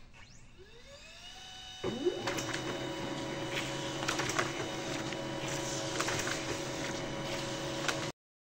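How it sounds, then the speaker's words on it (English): A Pantum laser printer whirs up, then runs with a steady mechanical hum and rhythmic feed clicks as a configuration page goes through, ending abruptly in silence. "The printer will print the configuration page."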